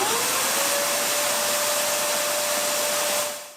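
A Shark CarpetXpert carpet cleaner runs with a loud, steady motor roar and airy hiss, holding constant for about three seconds before winding down.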